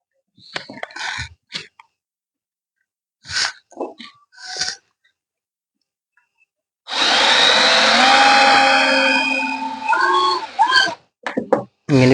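A power drill whirs for about three seconds driving a screw into a scooter body panel during a repair, preceded by scattered handling knocks and clicks and followed by a few brief taps.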